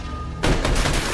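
Burst of gunfire erupting suddenly in a tense Avatar: The Way of Water film scene at the Ta'unui village, a dense loud volley of shots that continues for the rest of the moment with no speech.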